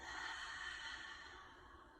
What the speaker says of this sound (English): Exhale out mouth.